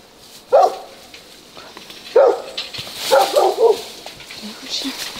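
A dog barks from a neighbouring garden during an urban exploration of an abandoned house, giving several loud separate barks spaced over a few seconds, with fainter yips between them and some background noise.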